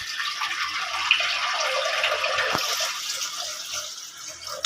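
Water poured into a pressure cooker while preparing boiled peanuts in a home kitchen, a continuous splashing, hissing stream that runs steadily throughout without any voices.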